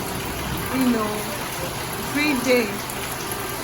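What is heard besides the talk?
rain falling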